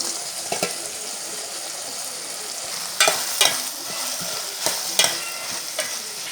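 Chilli bondas frying in hot oil for a Mangalorean recipe, a steady close sizzle with a few sharper bursts and spatters breaking through at intervals.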